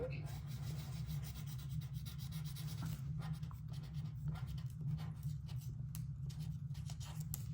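A pen writing on a small piece of card for a DIY blind bag craft, an uneven scratchy rubbing in short strokes and pauses, quiet and close, with no one talking.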